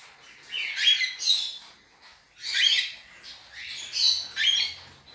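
Baby pet birds in a large nursery cage chirp and squawk in close, high-pitched bursts, with three clusters of calls separated by brief quiet gaps.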